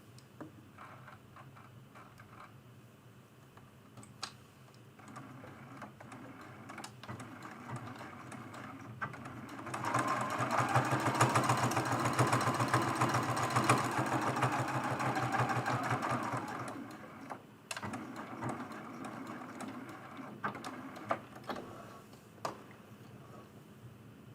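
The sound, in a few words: sewing machine stitching a straight line next to a seam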